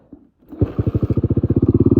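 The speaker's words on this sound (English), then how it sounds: "Starts right up, runs pretty good. It's pretty loud with that exhaust on it." Old Honda 250X motorcycle kickstarted: a brief scuffing kick, then the engine catches and idles loudly with a rapid, even, thumping exhaust pulse close by.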